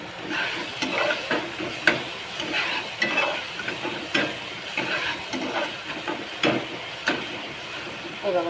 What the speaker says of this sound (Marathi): चांगला दोन्ही पण परतून घ्यायचा, कांदा टोमॅटो